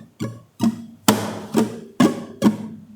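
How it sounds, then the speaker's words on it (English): Spanish guitar rumba strumming with the first and fifth strokes accented harder than the others, six close, crisp strums in an uneven, punchy pattern with no talking. "when I am accenting only the first and the fifth stroke,"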